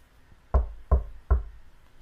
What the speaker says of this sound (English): when there came a loud knock.